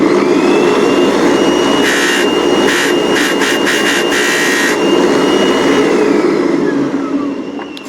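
A Kirby Avalir shampooer runs with a steady, loud motor whine while a part rubs against its bristles, adding a rough rattling racket in bursts over the drone before the motor winds down near the end.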